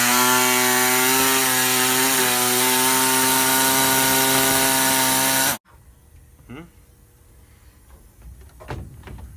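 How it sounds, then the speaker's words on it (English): A power cutting tool whines steadily through dashboard trim around metal brackets while fitting a 2015 Challenger SRT gauge cluster into a Valiant, loud and continuous, then cuts off abruptly, leaving faint handling noises and a few scrapes. "we just got to cut around these metal brackets here"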